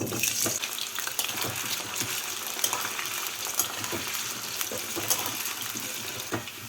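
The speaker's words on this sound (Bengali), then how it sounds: "তেলটাকে ভালো করে গরম করে নিয়ে এর মধ্যে আমি আলু ভেজে তুলে নেব" Two medium potatoes fry in hot mustard oil, giving a steady hissing sizzle peppered with sharp little crackles and pops, continuous and close.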